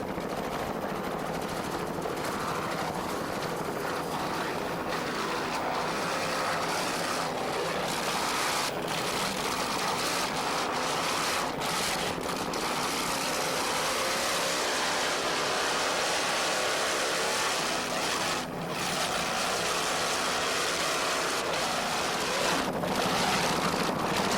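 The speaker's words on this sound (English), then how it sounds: "Let's listen to those two 750 horsepower Chevy engines." Offshore racing powerboat with two 750 horsepower Chevy engines roaring steadily at speed on open water, a dense continuous drone with wind and spray noise throughout.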